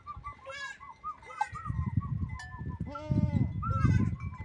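A tame billy goat in a pen in Brazil's Nordeste bleats several times in wavering, nasal calls, close and clear, over low rumbling background noise and a faint voice.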